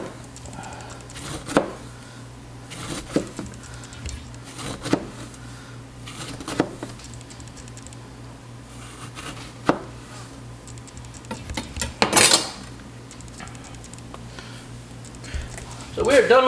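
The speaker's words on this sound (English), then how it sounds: "The other one, cut the ends off, and then we're just gonna slice this." A knife slices through lemons on a cutting board, making sparse single chops at irregular intervals under a low background hum, with a person talking at times.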